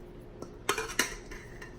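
Chicken wings being tossed with jerk seasoning in a bowl, a few sharp clinks and knocks of utensils against the dish spaced irregularly, close and fairly quiet.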